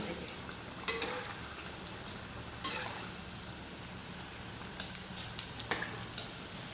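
Potato pakoras frying in hot oil make a continuous close sizzle with a few sharp ticks and clicks scattered through it, and no voices.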